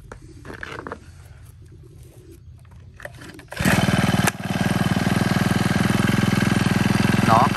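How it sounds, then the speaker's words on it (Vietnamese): A Honda GX25 four-stroke grass trimmer engine is pulled to start after a few seconds of quiet handling noises, then fires at once and settles into a loud, steady, even idle running close by. "bây giờ em sẽ test nổ cây máy này cho các bác nghe qua luôn các bác nhá"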